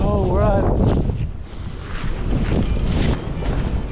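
Strong wind at a bridge during a fishing outing, heavy low buffeting roaring across the microphone throughout, with a voice speaking over it at the start.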